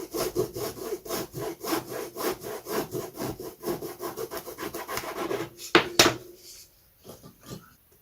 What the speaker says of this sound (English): Holding it vertically, of course, but I shall sand it anyway.